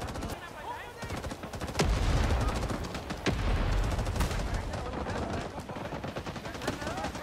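Bursts of automatic and single-shot gunfire crackle through a busy Vietnam War firefight in Rising Storm 2, dense and continuous with louder nearby shots standing out against a constant battle din.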